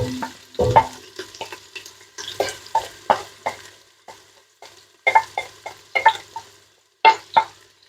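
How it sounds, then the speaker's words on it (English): Onion frying in a pan for a lasagne, with repeated scraping stirs in uneven bursts against a light sizzle, close and clear, no talking. "Okay, going for the onion."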